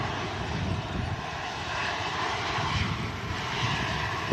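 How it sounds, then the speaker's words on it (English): A Ryanair airliner arriving from Bratislava touches down at Manchester Airport in strong gusty wind, its engines giving a loud, steady, broadband roar that holds for several seconds with no voices over it. "Ryanair touching down from Bratislava."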